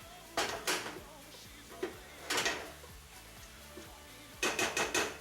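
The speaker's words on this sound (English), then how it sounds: "So here we have our onions and garlic. And keep on stirring that." Onions and garlic frying in a pan for homemade lasagna, a spoon stirring with several sharp scraping knocks against the pan in short clusters over a faint background sizzle.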